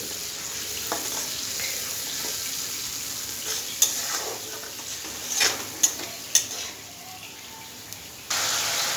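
Tomato paste with spices being fried and stirred in a pan for a fish curry with mango, with a soft sizzle under scraping stirs, a few sharp utensil clinks and a brief rush of tap water near the end.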